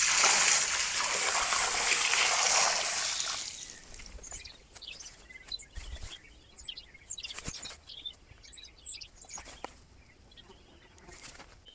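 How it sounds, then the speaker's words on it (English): A bucket of water is poured into a freshly dug trench, a loud rushing splash that fades after a few seconds into soft trickling, with birds chirping in the background. "we're gonna double check with a bucket of water to see if the water actually does go downhill"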